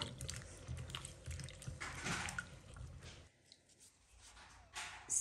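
Kumquats being washed by hand in salted water, with quiet splashing and trickling from rubbing the fruit; the sound is faint and continuous, dropping away briefly before a soft final splash.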